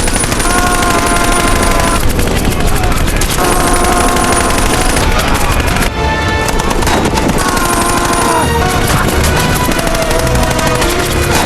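Loud, dense bursts of machine gun fire mixed with blasts and a dramatic soundtrack, continuous with a brief dip partway through.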